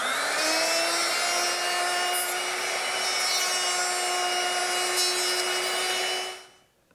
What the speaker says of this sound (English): I'm just going to use my router, which I've set up with a 1/2-inch mortising bit,